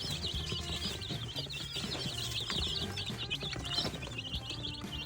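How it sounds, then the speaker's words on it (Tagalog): Young chicks peep noisily after feeding, a dense, continuous chorus of high, rapid chirps close by, with faint clucking fowl underneath and no talking. "Tweet sila ng tweet."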